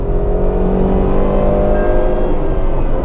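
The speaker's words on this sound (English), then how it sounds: "So just listen to its engine sound." A Tata Altroz 1.2-litre petrol car accelerating: a loud, steady engine drone heard from close by, rising gradually in pitch over three seconds, with no voices present.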